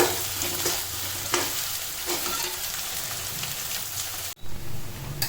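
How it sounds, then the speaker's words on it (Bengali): Chopped onions fry in oil in a pan, making a loud, continuous crackling sizzle broken by repeated scraping stirs, with a brief dropout near the end and no speech. "তো পেঁয়াজটা একটু ভেজে নেব ব্রাউন কালার করা পর্যন্ত"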